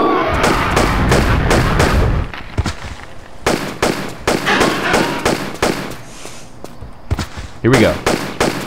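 Rapid bursts of gunfire in the video game Tomb Raider: Chronicles, loud sharp shots in quick rhythmic runs with brief pauses, while someone talks over the action.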